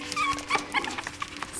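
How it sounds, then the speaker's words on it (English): Young puppies whimper and yip in quick, high, thin cries, several overlapping bursts close by with no talking. "here we have Holly and Harley's puppies"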